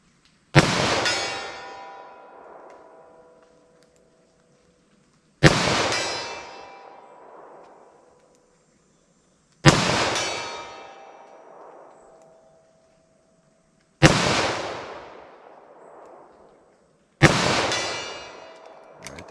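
A .38 Special snub-nose revolver fires five sharp, loud shots at a target 75 yards away, spaced several seconds apart, each crack ringing out with a long echoing decay across open ground.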